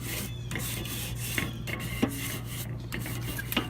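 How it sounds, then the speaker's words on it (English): A hot grill grate is scraped clean before smoking, with repeated rasping strokes close up and a few sharp metallic scrapes over a low background hum. "we're just going to scrape this grate down really good"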